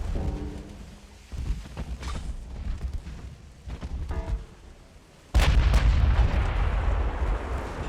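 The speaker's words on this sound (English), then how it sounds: "Oh no, that's their gunfire hitting us." Naval gunfire hits in Ultimate Admiral: Dreadnoughts thud in several heavy booms with rumbling between them, ending in a loud sustained blast of roaring noise.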